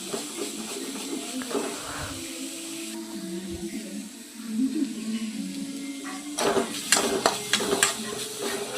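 Tomato kurma masala sizzling softly in a pan as it is stirred, a faint hiss and scraping under a voice speaking, with a louder burst of frying crackle near the end.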